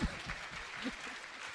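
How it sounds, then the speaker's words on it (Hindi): Audience applause at a Hindi poetry recital, a steady low rush of many hands clapping heard from a distance, with some faint voices underneath. "तालियां बजाए।"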